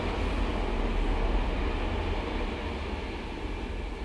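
A freight train rumbles past as a continuous, steady low roar with broadband noise, holding at an even level throughout with no voices.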